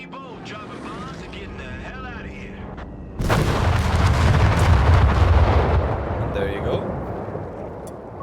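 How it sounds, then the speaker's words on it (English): Heavy dive bomb blasts from an unupgraded strike in Company of Heroes 3 erupt into a loud, sustained roar of explosions after a brief stretch of game sounds, with someone briefly speaking over it. "this is what an unupgraded dive bomb looks like."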